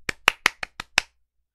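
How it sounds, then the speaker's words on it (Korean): A short burst of hand clapping from a small group during a Korean stock-market broadcast: about six sharp, distinct claps at a quick, uneven pace, close and clear, then silence. "야, 박수!"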